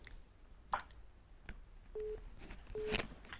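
An incoming call alert rings on a phone during a game session: two short, steady beeps about a second apart, fairly quiet, with faint clicks in the background and no speech.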